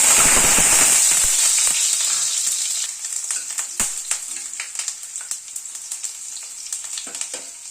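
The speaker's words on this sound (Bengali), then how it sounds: "আলুটাকে আগে ভেজে তুলে নেবো" Parboiled potato cubes frying in hot mustard oil in a wok: a loud, dense sizzle at first that settles into a quieter crackling hiss with scattered pops and light stirring clicks.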